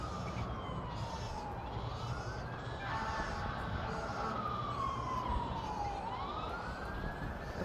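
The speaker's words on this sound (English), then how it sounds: "Of course you would be hearing sirens." A wailing siren sweeps up and down in pitch, heard from a distance over steady background traffic noise.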